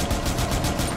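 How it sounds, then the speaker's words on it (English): Gunfire from the video game Tom Clancy's Rainbow Six, a dense steady burst of rapid shots running for about a second with no talk over it. "Here, I'll shoot to get their attention."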